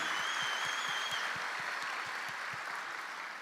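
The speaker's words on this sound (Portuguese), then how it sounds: "Eu peço a eles assim uma carinhosa salva de palmas para a gente" Congregation applause in a church service, a steady, even wash of clapping with soft rhythmic low thuds running through it, heard without talk.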